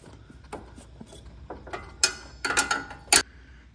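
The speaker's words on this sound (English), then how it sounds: "I'm gonna put a locking wrench there to hold the bolt tight while we get the nut loose." Wrench clicking and ratcheting against a nut on a bolt in a 5th gen Camaro engine bay, a series of faint metallic ticks building to a few sharper close clacks, no talk.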